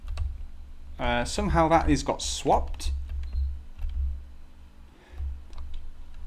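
Computer keyboard keys tapped to steer a two-player Unity game, scattered sharp clicks heard under a man's brief speech.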